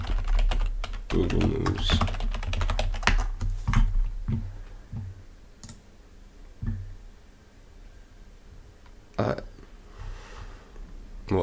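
Keys clatter on a computer keyboard in quick, uneven bursts, with short pauses and a couple of isolated louder taps near the end, and a voice speaks briefly over the typing.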